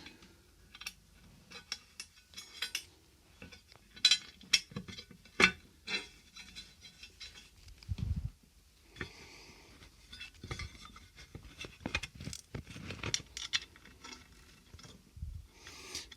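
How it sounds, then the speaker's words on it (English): Screws being driven with an Allen key while fitting a plunge router to a wooden router plate, irregular ratcheting clicks and metallic ticks close by, with a few dull knocks, no talking. "let's get these here screws in"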